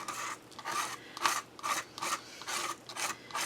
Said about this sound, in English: you scrape it off the mat, because if you don't, it'll stick to wherever it lands